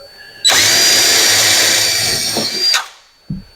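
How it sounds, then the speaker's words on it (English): A power drill bores a hole through a kitchen cabinet for a large toggle bolt, a loud, steady high whine lasting about two seconds before winding down, followed by a short knock. "this is just to give us a hole in the cabinet so we can get this big toggle bolt through it"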